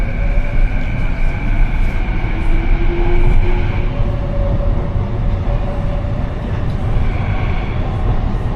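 Loud, steady rumble of a Vancouver Canada Line metro train with sustained tonal whines, rolling and braking into a station.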